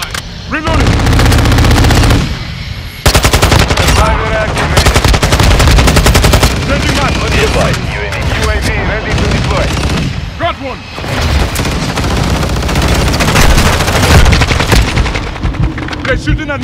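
Dense automatic gunfire fills a team deathmatch in Call of Duty: Modern Warfare II, with loud sustained rapid bursts and occasional booms, broken by one brief lull, while game voices call out over the shooting.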